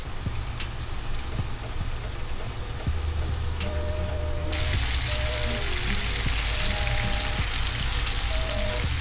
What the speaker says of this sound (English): That's ready for the frying pan.